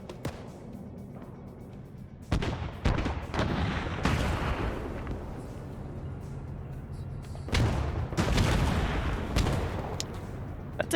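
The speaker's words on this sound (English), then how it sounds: "That's a GL firing, I think." Grenade launcher rounds firing in a military video game, heavy distant thumps and booms landing at irregular intervals over low ambient rumble.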